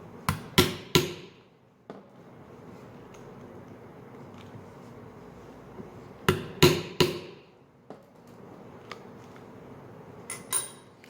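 Leather punched with a 3mm hole punch struck by a mallet, sharp knocks in two clusters of three against a quiet room, with a few faint taps between.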